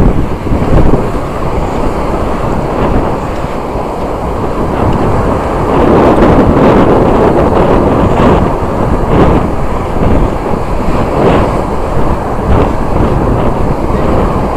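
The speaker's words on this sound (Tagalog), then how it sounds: "Grabe, lakas ng hangin," Strong wind at sea blasts across the microphone with loud, continuous rumbling buffeting. Gusts swell and ease throughout, and the roar of the wind dominates everything else.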